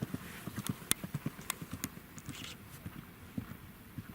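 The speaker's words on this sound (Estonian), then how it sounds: "Krossile startis Katriin Sild, hobusel Keit Lili." A horse gallops across a cross-country eventing course at a three-day event, its hooves drumming in a quick, fairly faint, distant rhythm.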